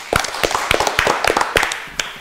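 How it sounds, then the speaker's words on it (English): An audience at a Ramadan quiz show claps for a contestant, a short burst of scattered, fairly close hand claps with uneven rhythm, tapering off near the end. "Give a big clap to Zain again."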